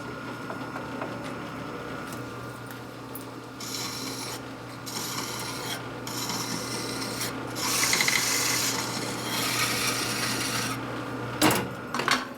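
A dull cutter machines a 1948-57 Panhead left-hand engine case with continuous rough rasping and scraping, in uneven bursts that swell louder near the end.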